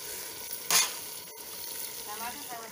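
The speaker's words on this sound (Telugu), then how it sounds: "ఒక 10 మినిట్స్ చికెన్ ఫ్రై అయిన తర్వాత" Chicken sizzles steadily as it fries in a pan for a village-style chicken curry, with a brief louder scraping burst early on as it is stirred, and no voices.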